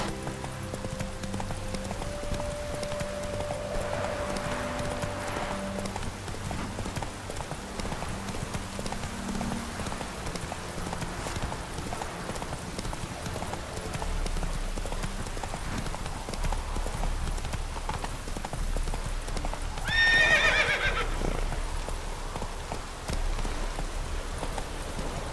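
Roach the horse gallops in The Witcher 3: Wild Hunt – Hearts of Stone, steady hoofbeats clip-clopping throughout over rain and game music, with a brief louder burst near the end.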